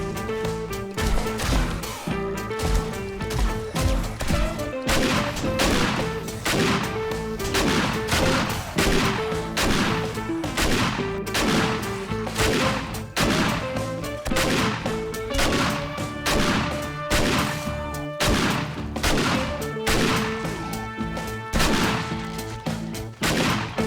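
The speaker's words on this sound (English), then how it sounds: "I think I unloaded about 10 shotgun shots into" Shotgun blasts fired at zombies in the game 7 Days to Die, a dense run of loud booming reports and crashes packed closely together, with layered game music or ambience underneath throughout.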